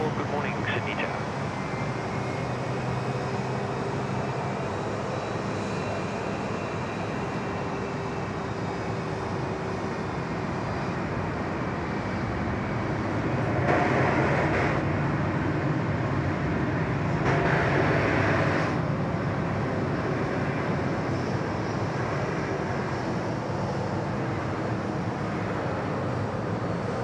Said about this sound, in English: Jetstar 28 about to drop in from Phuket, coming in on runway 34 left. There's 787-8.